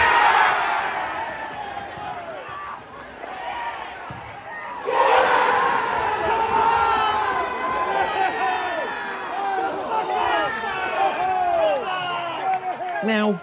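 A football crowd at a Dorking away match roars in celebration of a last-minute equalising penalty, a loud surge of shouting and cheering that swells midway and stays raucous, with individual voices yelling nearby.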